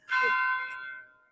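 At an antique appraisal fair, a single loud bell strike rings out clearly and then fades away over about a second.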